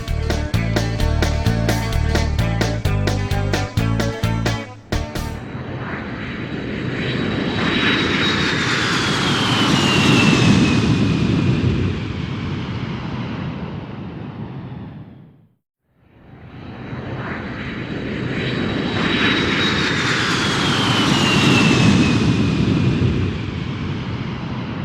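A few seconds of music give way to a loud, rushing airplane engine roar that swells and fades, cuts out briefly, then swells again.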